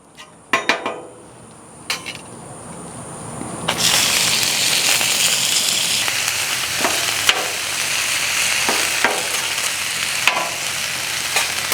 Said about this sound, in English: I'm going to go ahead and get the ground sirloin on, the ground beef here.